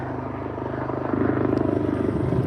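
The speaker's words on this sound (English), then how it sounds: "there we are, helicopter's coming to get me" A helicopter drones overhead, its rotor thrum steady and loud, growing a little stronger halfway through.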